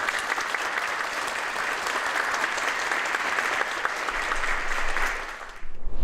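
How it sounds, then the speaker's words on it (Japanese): Audience applause at a Miyoshi town hall venue after a local song performance, a dense, steady wash of many hands clapping at full strength for about five seconds before tapering off near the end. "皆様もう一度大きな拍手をお願いいたします"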